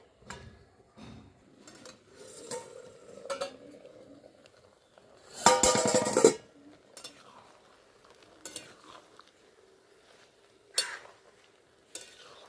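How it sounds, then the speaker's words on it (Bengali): Red chillies and tomatoes cooking in a covered pot are stirred with scattered scrapes and knocks of a utensil against the pot, one loud burst of clatter midway, otherwise fairly quiet and close, no talking. "একটু ভালো করে একটু নাড়াচাড়া করে নেব আবারও ঢাকা দিয়ে দেবো"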